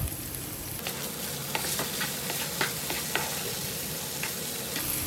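Potatoes and onions fry in a pan for a lunchbox fried potato egg rice, with a steady close sizzle under repeated scraping and clinking stirs of a spoon against the pan.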